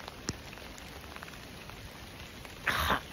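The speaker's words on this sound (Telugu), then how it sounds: "స్నోఫాల్ వాన కలిసి పడుతుంది." Rain mixed with snowfall patters steadily on surfaces at Kedarnath, a soft continuous hiss with scattered drops, a throat-clearing-like burst near the end.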